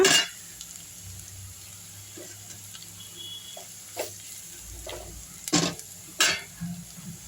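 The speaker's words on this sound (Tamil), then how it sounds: "பச்சை வாசனை இல்லாமல் வதக்கிடலாம்" Tomato masala sautés quietly in oil in a pan, a faint continuous sizzle with occasional sharp utensil clinks and scrapes, a few louder knocks toward the end, no one speaking.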